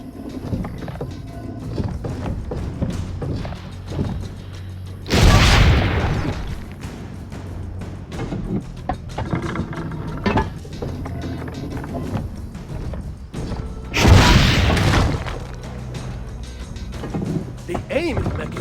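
In Assassin's Creed Brotherhood, a cannon fires twice, with two loud booms several seconds apart over steady game background noise, while characters talk throughout.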